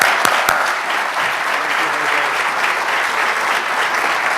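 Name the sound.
applause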